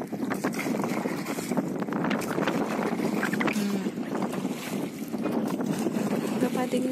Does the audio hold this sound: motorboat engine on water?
yes